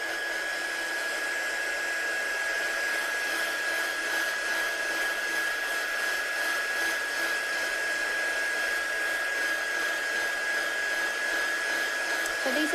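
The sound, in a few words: drying watercolour ink on a handmade card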